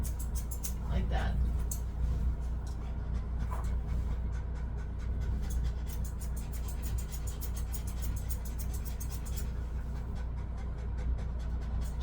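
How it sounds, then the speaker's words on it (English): A nervous Sheepadoodle pants in quick, steady, rhythmic breaths throughout a full teddy-style grooming trim in a cool, air-conditioned room, with light background noise. "She's panting because she's nervous"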